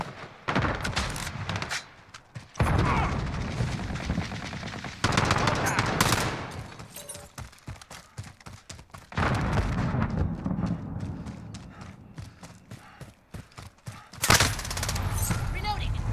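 An HK433 assault rifle fires in Call of Duty: Modern Warfare, with repeated loud automatic bursts separated by short pauses and game voice callouts in between.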